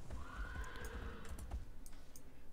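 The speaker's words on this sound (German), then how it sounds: "Das Pferd macht komische Geräusche" A horse in the video game Riders of Icarus whinnies in a long, wavering neigh that rises and falls for over a second, followed by faint clicks and small thuds, with no talk.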